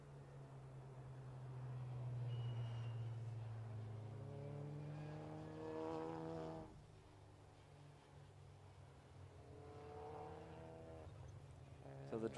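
Clio Cup race cars on the final right-hander of a racing circuit, engine notes rising and falling as they pass at a distance, fairly faint beneath a steady low drone.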